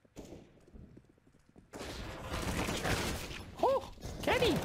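Gunfire in Counter-Strike on the Cache map during a professional ESL Pro League match, with loud bursts over busy game noise and a few sharp, ringing shots near the end.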